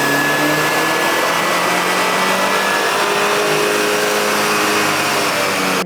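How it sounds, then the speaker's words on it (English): A car engine with a BMS cold air intake runs hard on a dyno, giving a loud, steady broadband roar with rising engine tones that hold unbroken for the whole stretch, with no talking. "go ahead and run it and see if we get any power gains with our BMS intake on it"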